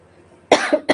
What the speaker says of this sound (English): got a bit of cough